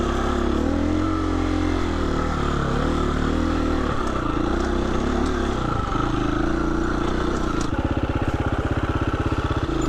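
A Husqvarna motorcycle engine drones steadily while riding on a trail, shifting pitch as the rider eases off and then picks up again, with a rapid pulsing chug near the end, loud and close.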